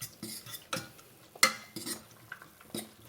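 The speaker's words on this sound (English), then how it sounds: "give these beans a good stir" A spoon scraping and knocking through beans in a pan: several short, distinct clatters and scrapes with brief pauses between them, one sharp metallic clink standing out near the middle, close and fairly quiet, no voices.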